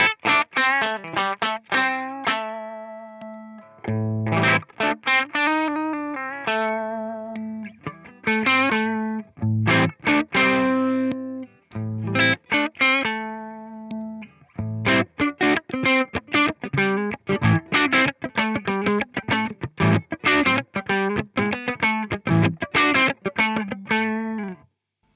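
An electric guitar playing driven, bitey riffs and chords through a Marshall SV20 Plexi-style amp, crunchy distorted notes in bursts with short pauses between phrases, heard alone.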